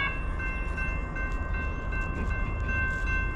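A CSX manifest freight train heads westbound at Edison, New Jersey, at dawn, a steady loud rumble of rolling wagons with a sustained high metallic squeal or whine over it, continuous throughout with no one talking.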